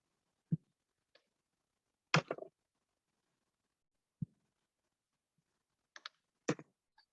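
Sparse, quiet clicks of keys on a computer keyboard during office spreadsheet work, a few isolated taps and one short cluster spread over several seconds with silence between.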